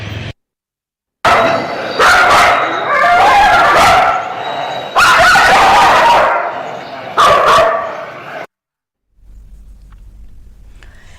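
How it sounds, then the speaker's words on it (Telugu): Stray dogs bark loudly and close in several hard bursts with short pauses between them, then the barking stops and only a faint low hum remains. "దీన్ని బాధ్యతగా తీసి కుక్కలను పట్టుకొని వెళ్ళాలని కోరుతున్నాము"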